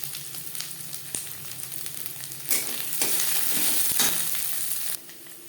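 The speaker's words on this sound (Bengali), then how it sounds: "মশলার সাথে 2-3 মিনিট গাজর ভেজে নেওয়ার পর দিয়ে দেবো ক্যাপসিকাম।" Carrot and capsicum sizzle in hot oil with spices for a savory semolina dish, with scraping stirs and a louder burst of frying midway as the capsicum goes into the pan, close up and without talk.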